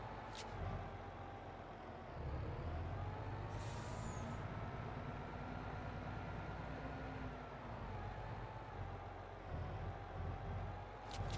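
A tractor or truck in the farming game Landwirtschafts-Simulator 22 drives up with a steady, even engine drone that holds throughout. Short air-brake style hisses come near the start, middle and end.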